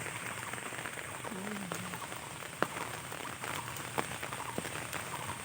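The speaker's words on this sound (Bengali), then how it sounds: "প্রচুর বৃষ্টি পড়ছে" Heavy rain falling on a village pond, a dense continuous patter close by with a few sharper drops or knocks, and a brief voice sound in the middle.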